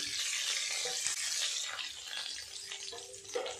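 Vegetables such as ridge gourd and pointed gourd fry in hot oil in a pan, making a steady, bright hiss that fades slightly toward the end, with a few soft stirring sounds near the close.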